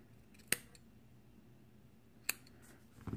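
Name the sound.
scissors cutting cotton wick for RTA coil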